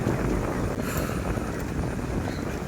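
Strong wind blows outdoors at dusk, a steady low rushing roar buffeting the microphone throughout, with no talk.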